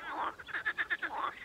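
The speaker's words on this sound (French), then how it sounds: "il y a plein d'autres grenouilles en train de coasser bruyamment" Frogs croak loudly at the edge of a pond, a rapid pulsing chorus of croaks that rises, breaks into short repeated bursts and swells again, close and with no voices.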